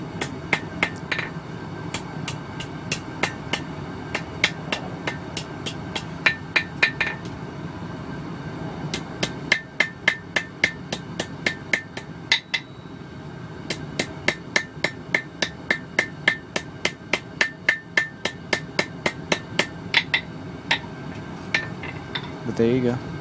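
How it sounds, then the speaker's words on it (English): Light hammer striking hot steel to forge a vein into a leaf, sharp metallic blows in quick rhythmic bursts, close and loud, with short pauses between runs of strikes. "Using a lighter hammer."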